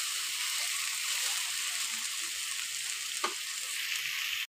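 Elephant apple (chalta) pickle simmers and sizzles in a pan after extra water is added, a steady close frying hiss with a brief stir near the end.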